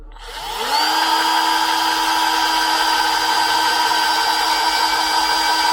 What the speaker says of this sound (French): Je te partage le perçage et filetage de ce mouilleux.